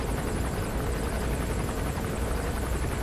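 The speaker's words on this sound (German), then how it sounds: "Ich habe den Punkt jetzt direkt auf den Hubschrauber gemacht" Attack helicopter in Metal Gear Solid V, a steady, loud rotor drone with a dense broadband thrum that holds unbroken throughout, with no speech over it.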